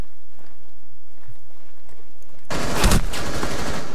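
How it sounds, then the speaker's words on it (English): Gunfire in the Rainbow Six Siege video game erupts suddenly as a loud, dense burst of shots after a quiet stretch of faint footsteps, continuing to the end. "They're shooting at a dead body."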